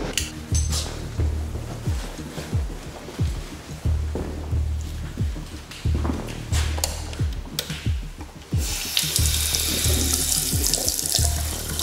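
Cold water gushing from a tap into a sink in an abandoned hotel kitchen, a steady splashing rush with irregular knocks and clatters, rising to a harsher, brighter spray near the end.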